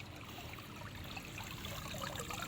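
Cold, clear water flows at a spring where villagers draw their water, a steady close rush and trickle that runs on evenly with no one talking.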